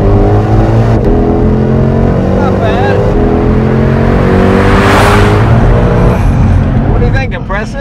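A 2020 Shelby Mustang GT500 engine revs up hard and climbs in pitch, roaring loudly close by, with people speaking briefly over it before it eases off.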